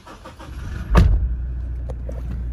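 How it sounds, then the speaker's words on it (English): A 2018 Toyota Rugged X engine cranks and fires with a sharp burst near one second, then settles into a steady low idle rumble, close and alone. "Give the car a quick start now for us."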